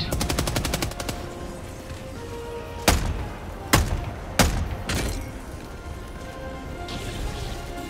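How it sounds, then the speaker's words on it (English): Orbital strike explosions in Helldivers 2: a rapid burst of gunfire at the start, then four loud, separate heavy blasts booming one after another, with rumbling tails between them. "Orbital inbound."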